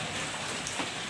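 Heavy rain pours steadily during a downpour over flooding city streets in Brebes, Indonesia, a dense, close hiss of drops with a few brief louder spatters.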